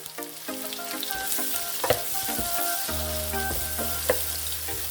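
Onion sautéing in a pan for lomi noodle soup: a steady, close sizzle of frying with occasional light clinks and stirring scrapes, no voices.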